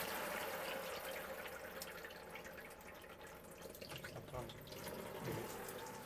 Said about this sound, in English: you've got hot water coming off that tap there